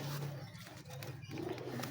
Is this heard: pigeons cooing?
yes